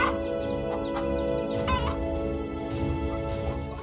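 A hen clucks in repeated short, agitated bursts, close and fairly loud over a busy, noisy background, with a sharp squawk near the middle.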